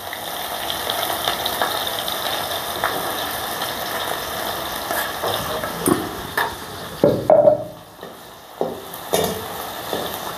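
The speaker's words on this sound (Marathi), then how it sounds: "कढई तापलेली. आता आपण त्यात कांदा टाकून घेऊया." Three small chopped onions dropped into hot oil in a kadhai, a constant close sizzle with scattered clinks and scrapes of stirring, the stirring growing busier and louder toward the end, with no talking.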